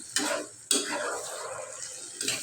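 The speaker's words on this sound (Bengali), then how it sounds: "ভালো মতো এখন আবার একটু কষাই নেব" A tomato and rice mixture for tehari is stirred and sautéed in a pot. Two sharp scraping bursts open the sequence, with a softer sizzle between them and a final scrape near the end.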